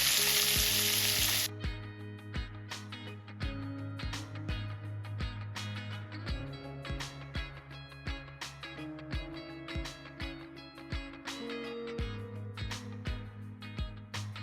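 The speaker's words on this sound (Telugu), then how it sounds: "ఉల్లిపాయ తరుగు పచ్చిమిర్చి ముక్కలు వేసుకొని వేపుకున్నాం" Chopped onions and green chillies fry in a pan with mustard seeds and curry leaves; a loud sizzle opens before rhythmic background music takes over and mostly covers the frying.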